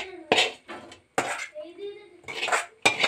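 Cooked tomato mixture being moved into another pot in a home kitchen while making prawn curry, with clattering metal pots and spoon clinks in several bursts, close and fairly loud, with a voice talking over parts of it.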